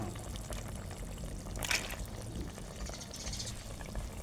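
A brief splash of fish sauce poured into a pot of chicken and luffa curry, quick and fairly soft, against a quiet background hiss.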